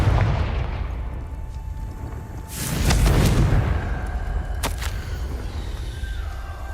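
The Confringo explosive spell from the Hogwarts Legacy video game, a deep rumbling blast that swells and rolls out over a couple of seconds against a low droning game ambience, followed by a sharp crack.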